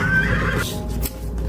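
A zombie horse in a Magic: The Gathering video game gives a single loud, shrill whinny that drops in pitch, followed by a short snort, close and clear with no talking.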